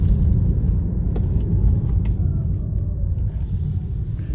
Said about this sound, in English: Here's the cone truck.